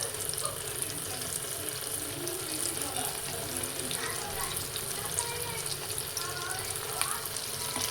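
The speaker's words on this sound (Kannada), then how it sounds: "ಅದನ್ನು ಕೂಡ ಆಯಿಲ್ಗೆ ಹಾಕಿ ಫ್ರೈ ಮಾಡ್ಕೊಳ್ಳೋಣ" Prawn kebabs fry in hot oil with a steady, close, even sizzle and crackle that holds at a moderate level throughout, with no break or pause.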